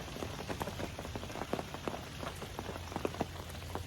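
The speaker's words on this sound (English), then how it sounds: "is a little bit of light rain" Light rain pattering on a surface outdoors during a brief passing shower, a steady soft patter with scattered individual drop ticks throughout, with no voices.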